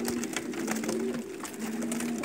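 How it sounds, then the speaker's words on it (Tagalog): Pigeons of various kinds coo in their coops, a continuous soft murmur of overlapping calls with a low steady hum beneath, several birds close by. "iba't ibang klase ng kalapati."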